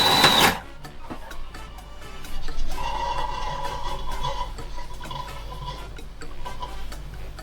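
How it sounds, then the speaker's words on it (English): A DeLonghi Magnifica Plus coffee machine froths milk with a steady whirring, hissing drone that settles in after a brief louder burst at the start, running continuously at moderate level with faint ticking through it. "It's frothing my milk."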